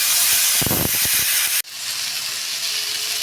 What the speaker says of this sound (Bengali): এটা সব একসঙ্গে খুব ভালোভাবে একটু ভেজে নিতে হবে।